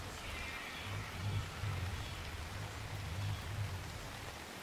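Rain comes down in a steady, gentle wash with a low, wavering rumble beneath it. No one speaks.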